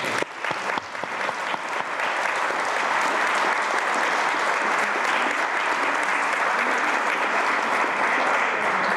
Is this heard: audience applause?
yes